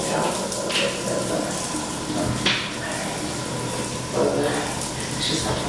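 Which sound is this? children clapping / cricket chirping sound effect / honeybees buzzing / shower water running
shower water running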